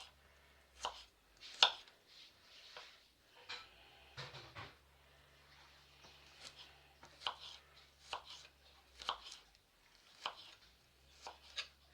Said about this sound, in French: on va couper nos ailes donc en 3 et ensuite on va faire des morceaux